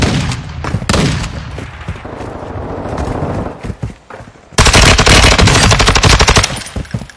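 Rapid automatic gunfire bursts through a firefight in the Call of Duty Warzone video game, first in scattered shots and then in a loud, sustained rattling stream of fire close by.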